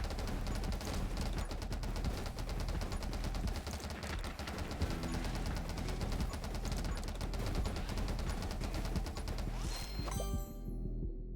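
SMG gunfire in the game 20 Minutes Till Dawn, a dense, continuous rattle of rapid shots with game effects that runs without pause and cuts off near the end, with no talking.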